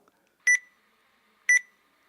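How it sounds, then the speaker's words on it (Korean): A digital countdown timer gives two short, bright electronic beeps about one second apart, clear and isolated in a quiet room at the start of a 30-second count. "앞에 타이머가 갈 테니까 자, 시작할 거예요"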